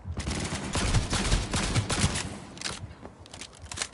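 Gunfire in Cyberpunk 2077: loud, close bursts of rapid automatic shots packed together, then thinning into scattered single cracks, with no talk over them.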